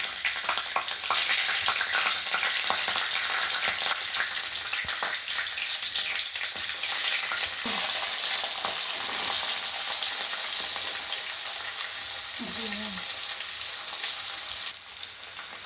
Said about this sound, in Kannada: ಸಾಸಿವೆ ಹಾಕೊಂಡ್ಮೇಲೆ ಜೀರಿಗೆ ಹಾಕ್ಕೊತಾ ಇದ್ದೀನಿ. ಮತ್ತು ಹಸಿಮೆಣಸಿನ್ಕಾಯಿ ಹಾಕ್ಕೊತಾ ಇದ್ದೀನಿ.